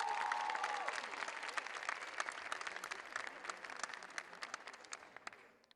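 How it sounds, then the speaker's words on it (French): Loud, steady audience applause for young performers at a school talent show, continuous clapping that tapers off toward the end. "On applaudit fort ces jeunes stars."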